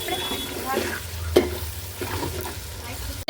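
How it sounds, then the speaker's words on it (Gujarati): Dal being stirred with salt in a cooking pot, a soft continuous sizzle and scraping swirl up close with one sharp knock of the spoon partway through; a voice is faintly present beneath. "પછી હલાવી લઈએ"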